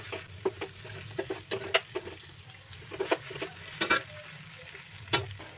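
Sabudana khichdi being stirred in a pan with fried peanuts and potatoes, giving a run of scraping, clattering spoon strokes over a soft sizzle, close and moderately loud with no talking.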